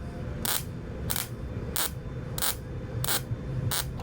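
A MIG welder lays tack welds on sheet metal for a 1962 Chevrolet C10 pickup cab lower panel. Six short, sharp crackling bursts come at roughly even intervals over a low background hum, with no voices.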